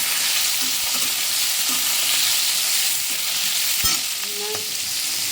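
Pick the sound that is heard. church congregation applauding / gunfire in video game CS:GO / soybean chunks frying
soybean chunks frying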